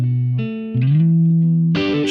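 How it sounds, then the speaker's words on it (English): Clean electric guitar notes ringing out one after another, bathed in a Room-type reverb with short decay from an amp simulator pedal, played without an amplifier. "Let's add some reverb. This is the Room."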